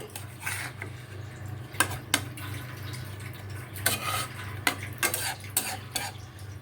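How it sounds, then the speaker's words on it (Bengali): A spoon scrapes and stirs tilapia fish through a simmering hot and sour spice curry in a pan, with irregular clinks and scrapes over a low bubbling sizzle, close and fairly quiet. "এবারে মাছটাকে এই মশলাটার সাথে আমাকে মিলিয়ে দিতে হবে কিছুক্ষণ ফুটতে দিতে হবে"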